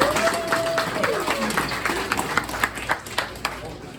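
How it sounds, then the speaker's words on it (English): Scattered clapping from a small crowd at a Lions Club fundraiser breakfast, building into a round of applause with sharp individual claps toward the end, mixed with background murmur and a brief tonal ping. "please give a round of applause to Mr. Lionel Cochran"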